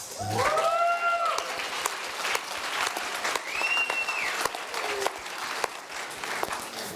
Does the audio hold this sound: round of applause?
yes